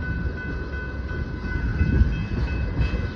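A long train rumbles steadily past nearby, a dense low roar of wheels and cars with faint metallic ringing above it, no voices.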